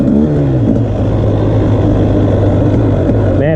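A 2020 KTM 300 XC dirt bike engine idles low and steady at close range outdoors, a loud continuous rumble throughout with no talking.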